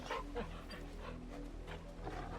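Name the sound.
dog Torgal panting in video game Final Fantasy XVI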